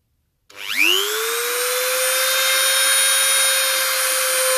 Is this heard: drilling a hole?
yes